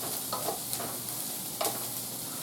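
Vegetables sautéing in a light coating of olive oil: a soft, even sizzling hiss close by, with a few brief scrapes or clinks, no voices.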